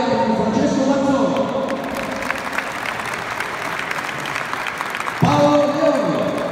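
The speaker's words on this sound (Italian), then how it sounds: "un applauso e un ringraziamento alla Commissione Organizzazione Gare con Francesco Manzoni." Applause from an audience at the Italian kickboxing championship finals in Riccione, a dense sustained clapping that runs throughout, with a voice speaking over it near the start and again toward the end.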